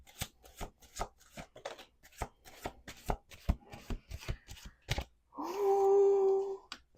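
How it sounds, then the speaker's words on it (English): Tarot cards being shuffled by hand at home, heard as a run of crisp, close riffling snaps at a quick, uneven pace, followed by a longer sustained rustle. "Let's do 2 more shuffles."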